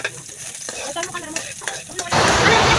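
Onions hit hot oil in a pan, with a few stirring scrapes and pops before a loud, steady sizzle swells up and continues close by.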